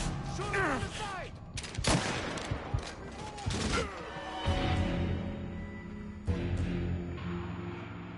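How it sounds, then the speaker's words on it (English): Gunfire in the crime action game Mafia III, dense volleys of shots and impacts mixed with game sound effects and a tonal score, with shouted voices partly over it. "Shoot him on the side!"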